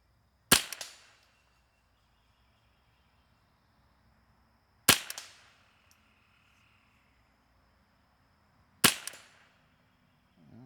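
Ruger 10/22 rifle firing three crisp, sharp single shots spaced roughly four seconds apart, each with a short ringing tail over a quiet outdoor background, no talking.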